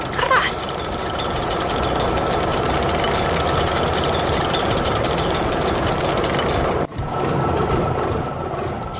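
A loud red tractor engine chugs and rattles steadily at close range while plowing a field, with a brief dip near the end before the engine noise resumes.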